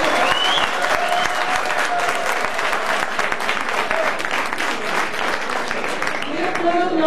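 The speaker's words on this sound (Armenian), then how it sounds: "եկեք բոլորս ջերմ ծափողջներով բոլորի" A crowd gives loud, sustained applause for athletes at the 2011 Armenian national student championship, the dense clapping running steadily throughout while a voice speaks over it.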